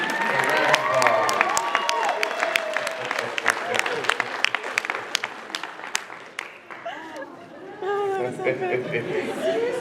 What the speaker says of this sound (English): let's give our speed racer, Grass Bandicoot, a round of applause